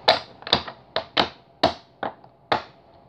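Seven sharp, crisp card-riffling bursts snap in an irregular rhythm, each a quick papery flutter that decays fast, close and clear in a quiet room.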